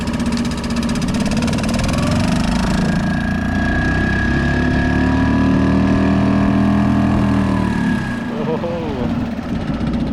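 A Suzuki 2.5 outboard motor fitted to an Old Town 106 kayak, running close and loud with a steady mid-pitched buzzing drone, some gentle pitch shifts, and someone talking over it.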